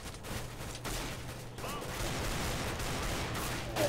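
Gunfire from the video game Counter-Strike: Global Offensive, including an AK rifle, sounds as quiet bursts and bangs under game noise, with a low steady hum through parts and no clear single shots standing out.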